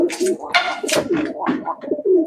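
Racing pigeons from a competition loft coo close by in a rapid burst of throaty, rolling calls, with a faint murmur of voices beneath.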